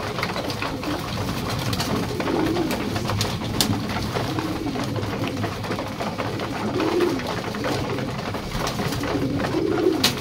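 Pigeons coo repeatedly in a loft, their soft, rolling calls rising every few seconds over a steady background of rustling and fluttering, with no voices.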